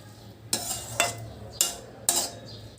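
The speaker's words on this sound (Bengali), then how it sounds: "একটা হাফ লেবুর রস দিয়ে দিলাম, দিয়ে ভালো করে মিশিয়ে দিচ্ছি।" Four sharp metal clinks of a spoon against a pan at an even pace as lemon juice is stirred into a cooked breakfast mixture with the heat off, each tap close and bright with a short ring, over a faint background hum.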